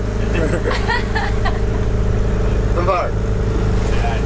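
A sailboat's engine running steadily while motor sailing in light wind, a continuous low hum with voices speaking over it at intervals.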